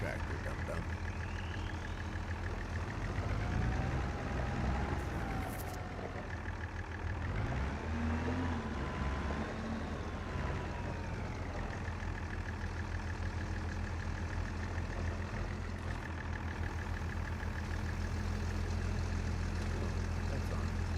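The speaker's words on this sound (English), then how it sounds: "Start the tractor, dum-dum." Tractor engine in a farming video game running at a steady low idle throughout, with someone talking over it now and then.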